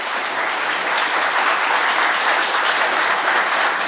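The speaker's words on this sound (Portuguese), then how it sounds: "vou pedir, por favor, a nossa salva de palmas" An audience at a talk about chemical dependency, seen through mothers' eyes, claps loudly and continuously, a dense wash of applause with no voices.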